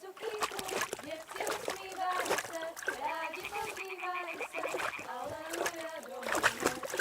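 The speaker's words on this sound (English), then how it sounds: "Throw a stone in the water near her to lure her away." A stone splashes into water in the medieval video game Kingdom Come Deliverance, a brief wet plop heard beneath fairly constant character speech.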